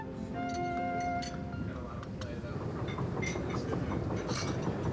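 Steady rumble of a passenger train rolling along rails through the Rockies, with rattling, clicking wheels and faint chimes or squeaks, murmuring voices mixed into the continuous din.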